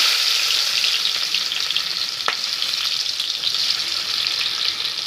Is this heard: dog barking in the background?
no